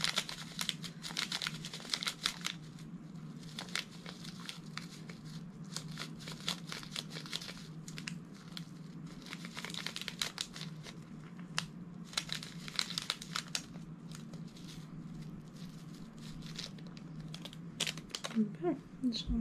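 A plastic bag of diamond painting drills being cut open and handled, with repeated crinkling and small tapping rattles in uneven bursts that run throughout, close by and moderately loud.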